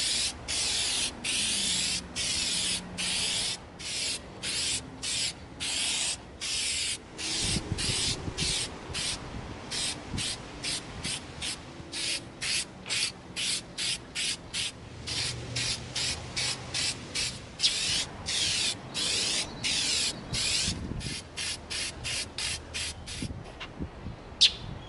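Aerosol cans of Plastidip rubber coating spray onto an EVA foam figure outdoors, a steady run of short hissing bursts separated by brief pauses, close and fairly loud with no speech.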